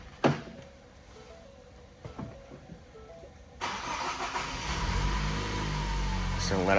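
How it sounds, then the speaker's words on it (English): A 2009-or-later Ford car's engine cranks and catches after refuelling, then settles into a steady, loud idle with a broad, rumbling drone close by. "go ahead and start the engine up"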